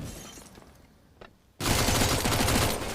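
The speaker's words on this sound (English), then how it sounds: "Oh, good dink from the MAC-10." MAC-10 submachine gun fire in Counter-Strike during a DreamHack Open Rotterdam esports match: a rapid, loud, continuous burst erupts after a quieter stretch of game ambience with faint distant shots.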